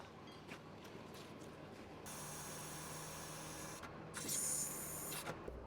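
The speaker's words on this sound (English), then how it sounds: "I'm just going to put the spec lift out now, so we're ready for the second vehicle." Hydraulic spec lift on a recovery truck extending, a steady mechanical whine and hum that switches on after a quiet start, holds for a couple of seconds, briefly pauses, then resumes louder with a ratcheting edge.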